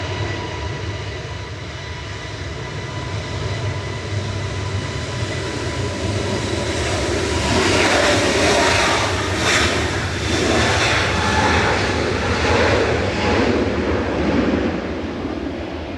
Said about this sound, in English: Turkish Airlines departing next.